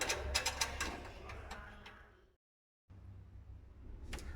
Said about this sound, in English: Line up the screw holes and then tighten all 3 screws